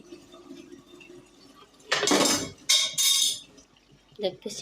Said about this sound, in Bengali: এসে ঢাকনাটা সরিয়ে দেখতেছি